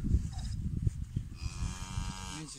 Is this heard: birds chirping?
no